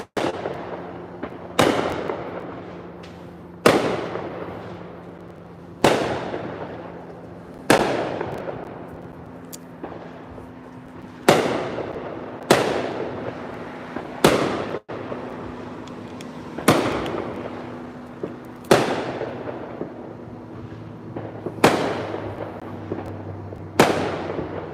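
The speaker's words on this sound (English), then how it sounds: "It's always like this on the 4th of July. Because of all the fireworks." July 4th fireworks burst outdoors in a steady series of about a dozen loud, sharp explosions a couple of seconds apart, each followed by a decaying rumble and crackle, with no talk.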